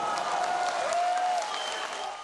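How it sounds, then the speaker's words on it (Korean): Clapping from a crowd watching a taekwondo breaking demonstration, a dense wash of applause at steady loudness with a faint tonal line running through, easing slightly toward the end. "기왓장이 으스러지는 소리에 박수갈채가 쏟아집니다."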